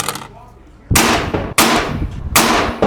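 A PA30 Mini Megalodon airgun fires AEA slugs on a range, giving three sharp, loud cracks roughly evenly spaced, each followed by a brief ringing decay, with a faint earlier sound before the first shot.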